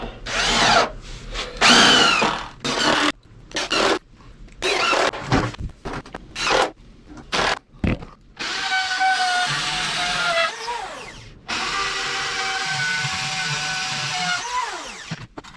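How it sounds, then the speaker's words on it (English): A power drill drives regular screws into treated wood boards while stair stringers are built, with short bursts early on and then longer sustained runs that rise and fall in pitch, close and loud with no talk. "Now I'll just run in a bunch of regular screws in here."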